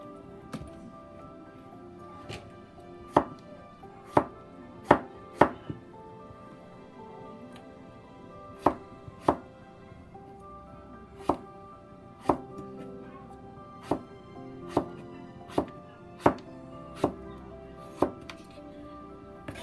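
Cucumber being sliced with a knife on a board, a series of crisp, evenly spaced chops, close and clear over a quiet background.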